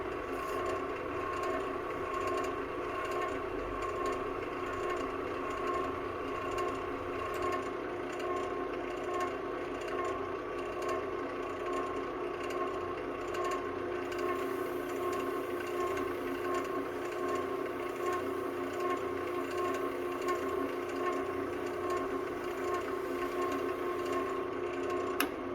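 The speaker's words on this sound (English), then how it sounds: "So now I'm cranking up the lathe speed here so I can get some real good friction here." Wood lathe spinning a bottle stopper at high speed for friction polishing, giving a steady, continuous mechanical whir and hum that stays loud and even throughout, with no talking.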